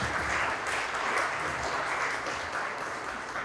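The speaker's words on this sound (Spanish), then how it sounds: "un aplauso a Alec." An audience applauds steadily for several seconds, a dense wash of clapping with no clear pauses.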